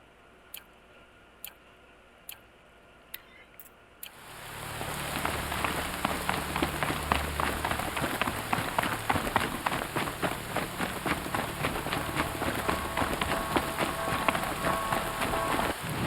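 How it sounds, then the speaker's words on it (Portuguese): Steady rain on a surface in the video game Horizon Zero Dawn, a dense hiss with fine pattering drops that swells in suddenly after a few seconds of sparse clicks, then holds loud and even. "chuva cai."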